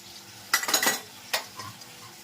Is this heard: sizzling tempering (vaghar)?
yes